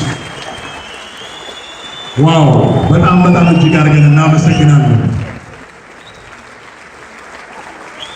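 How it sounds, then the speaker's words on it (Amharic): At a premiere screening of the film Markos, the audience breaks into a burst of applause lasting about three seconds, and a voice speaks over it before the room quiets down. "እዚህ ጋር ነው ጭብጨባው በቃ ድብልቅ የሚለው"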